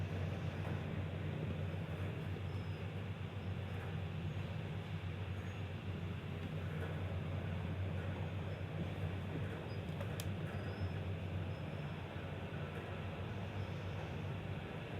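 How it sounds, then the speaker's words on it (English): Steady low rumble and rushing noise of a Eurocity train moving at about 200 km/h, constant and unbroken, heard from inside with no talking. "a conventional Eurocity train, this is about as fast as you're going to go"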